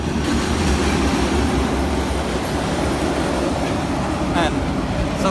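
A train rolls steadily past a gated crossing, a loud continuous rumble and rattle of wagons close by that holds for the whole stretch, with voices faintly underneath.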